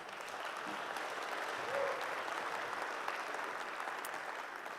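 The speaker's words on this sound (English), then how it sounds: "Will you all give them another round of applause?" Congregation at a Sunday church service gives a sustained round of applause, an even wash of many hands clapping at a distance, steady and unbroken throughout.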